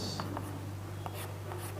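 Chalk or marker strokes on a board during a Class 10 trigonometry lesson, several short scratchy bursts spaced irregularly over a steady low hum, no voice.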